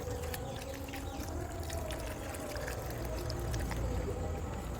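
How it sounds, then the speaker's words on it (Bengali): Water pours steadily onto potted adenium plants, a continuous soft splashing and trickling close by, fairly quiet, with a faint voice nearby. "সেই জন্য বেশি করে জল দিলাম এটা"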